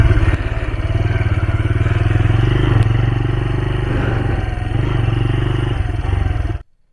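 A motorcycle engine drones loud and steady while the bike rides along a slippery, muddy path through a bamboo grove, with faint clatter over the constant rumble, then cuts off abruptly near the end.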